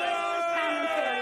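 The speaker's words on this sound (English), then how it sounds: "the crowd behind us, Trump supporters, started chanting" A crowd of Trump supporters chants in unison outdoors, a brief sustained swell of many voices shouting together, somewhat distant and steady.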